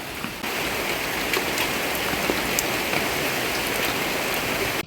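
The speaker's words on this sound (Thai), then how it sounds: "ฝนตก ในบ้านแลยพี่น้อง แต่ว่า ข้างนอกไม่ค่อยแรงเนาะพี่น้อง" Rain falls in a steady, dense hiss, heard from inside a house, with scattered drops pattering nearby and no voices over it.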